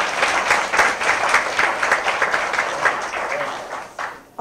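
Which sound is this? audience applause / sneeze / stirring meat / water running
audience applause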